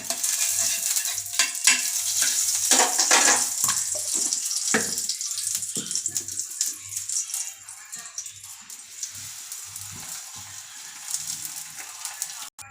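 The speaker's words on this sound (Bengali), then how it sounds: "এ দেখো, ঘি দিয়ে ভাজবো।" A mango-stuffed paratha fries in ghee on a pan, giving a steady, close crackling sizzle with soft scraping and handling noises, growing a little quieter toward the end.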